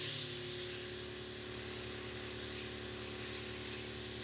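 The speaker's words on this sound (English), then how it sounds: "Yep, that's some good spray." An airbrush fires a steady spray test during Warhammer 40K model painting, giving a continuous broadband hiss that runs unbroken throughout with a faint low hum beneath it.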